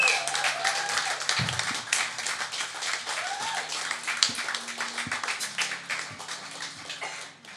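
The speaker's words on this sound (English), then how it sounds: "I want a massive round of applause and whoops and everything." Audience applause with scattered whoops at a live gig at The Moon in Cardiff, a dense, steady wash of clapping and cheering that carries on unbroken for the whole stretch at a fairly high level.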